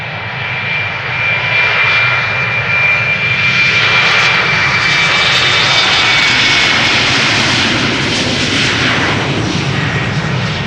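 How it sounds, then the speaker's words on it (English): A KLM Embraer 190 jet airliner bound for Copenhagen roars loudly and close at Amsterdam Schiphol Airport, a sustained powerful engine rumble with a high whining tone that swells and fades slightly, no voices over it. "KLM Embraer 190 to Copenhagen"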